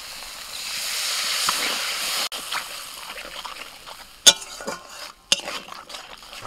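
Spice paste of turmeric, cumin, salt and Kashmiri chilli powder sautéing in a pan with a little water, giving a steady close hiss of steam with scraping stirs and a few sharp utensil knocks.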